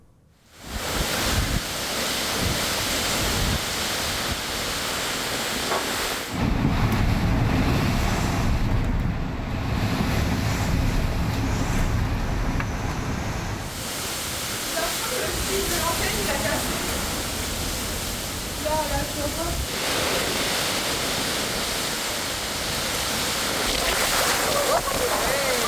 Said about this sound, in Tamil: பயங்கரமான புயலான கேரன்ஸ் கரையை கடந்த காட்சியை இப்போ நீங்கள் பார்க்குறீங்க